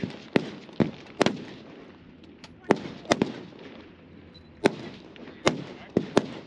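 Rifle shots crack out irregularly at a 1000-yard F Class long-range match, about a dozen sharp reports in all. Some are close and loud, others fainter and more distant, each trailing off in a short echo.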